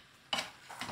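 A spoon stirring curry in a small, cramped pot makes two short scraping, sizzling strokes, close and fairly soft, with no speech over them.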